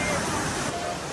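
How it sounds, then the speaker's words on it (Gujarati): Heavy rainwater surges past in a rushing torrent after a downpour, a loud, steady broadband roar close to the microphone with some faint background voices. "આ એ બધો પાણીનો બહાવ છે"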